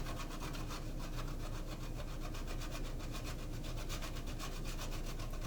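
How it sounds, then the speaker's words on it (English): Cheese is grated into a pan of morels, giving a continuous, steady rasping scrape with a rhythmic back-and-forth texture that stays even and fairly close throughout. "Grate some cheese into the pan."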